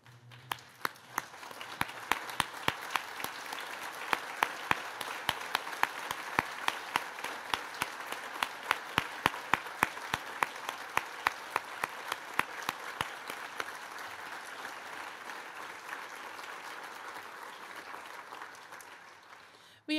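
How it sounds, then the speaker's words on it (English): A large audience at a scholarship event applauds donors steadily for about twenty seconds, a dense wash of clapping with sharp individual claps standing out, slowly tapering near the end. "stand and offer a round of applause for these generous donors"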